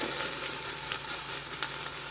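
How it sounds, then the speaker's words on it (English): Meat sizzles steadily in a preheated Ninja Foodi pan, a constant crackling hiss with a couple of sharper pops, no talking. "the moment I dropped it in there, it started sizzling"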